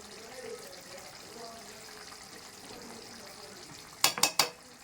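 Spice powder stirred into a simmering prawn curry, a soft bubbling and scraping under a quiet voice, ending in three sharp taps of a spoon on the pan rim.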